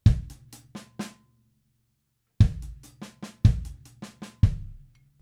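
The first half of an Ash Soan-style quintuplet drum groove, played on bass drum, hi-hat and snare. Punchy kick-led bursts of rapid hits are split by a brief silent gap, played close and dry with no talking.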